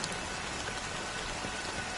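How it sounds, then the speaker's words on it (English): Steady, dense rainfall pours down in a Honkai Star Rail scene, an even wash of hiss with no voices over it. "it's still raining."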